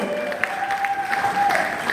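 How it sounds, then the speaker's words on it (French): Audience applause at a charity gala following a choir performance, an even patter of clapping with a steady tone underneath. "Est-ce qu'on peut encore applaudir très fortement pour eux car ils ont livré une belle prestation."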